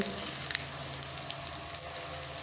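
Vada pav potato vadas frying in hot oil, a steady close crackling sizzle with faint scattered pops throughout, no voices.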